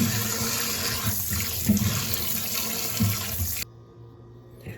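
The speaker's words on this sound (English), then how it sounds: "I'm going to wash my veggies" Vegetables rinsed under a running kitchen tap, a steady close hiss of water with splashy fluctuations as items are moved through the stream, cutting off abruptly near the end.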